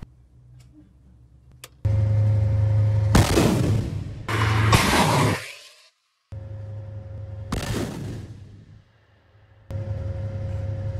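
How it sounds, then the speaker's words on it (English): A TOS-1A heavy flamethrower system fires thermobaric rounds that burst into vacuum explosions, giving several loud, heavy blasts with sharp broadband onsets over a steady low engine rumble, separated by brief quiet gaps. "rounds disperse gaseous clouds of chemicals into the air, which are then detonated by vacuum explosives to release high-pressure shock waves"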